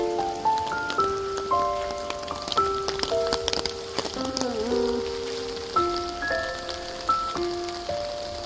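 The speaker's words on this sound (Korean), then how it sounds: "비가 와가지고 좀 그렇다" Rain falling outdoors patters and taps steadily across a surface, with sharp drop clicks scattered throughout, while a stepped, melodic tone sequence plays over it.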